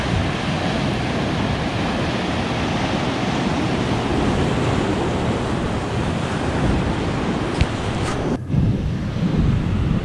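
Sea waves wash steadily onto the shore, a broad continuous rush of surf mixed with gusty wind buffeting the microphone, loud and close, with a brief dip near the end.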